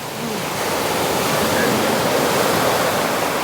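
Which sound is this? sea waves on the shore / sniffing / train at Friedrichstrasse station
sea waves on the shore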